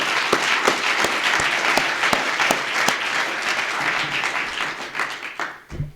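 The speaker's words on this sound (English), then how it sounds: "Please give him another round of applause." Applause fills the room at a University of Michigan press conference for a new athletics director, sustained clapping from a modest crowd with distinct individual claps standing out, fading slightly at the end.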